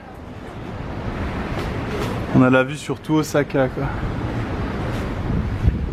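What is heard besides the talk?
strong wind at a high viewpoint over Osaka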